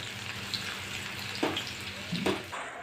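Garlic sautéing in a pan on a home stove gives a steady, moderate sizzle, broken by a couple of brief stirring scrapes.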